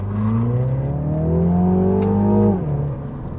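MINI John Cooper Works Cabrio 2023 with a large-displacement turbo engine pulling hard from low revs, a loud, close rising drone that climbs steadily for about two and a half seconds before easing off, heard alone.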